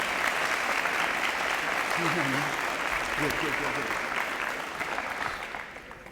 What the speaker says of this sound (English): May I have a round of applause for them?